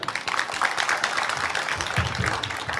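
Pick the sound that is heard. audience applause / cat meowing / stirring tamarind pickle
audience applause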